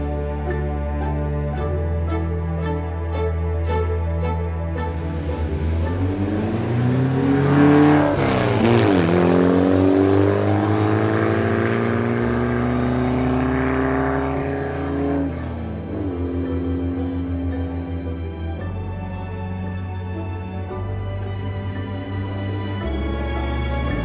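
A Porsche 356 Carrera Speedster Zagato drives through foggy hills near Zagato's headquarters, its engine loud and close, revving up through the gears in sweeping rises and falls of pitch with no voices.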